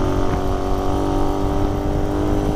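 A motorcycle engine runs steadily close by, idling with a rough, uneven throb and little apparent power, loud and continuous with no voices.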